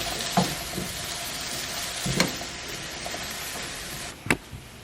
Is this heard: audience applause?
no